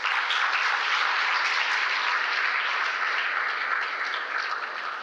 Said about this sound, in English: How about a big round of applause for them as well?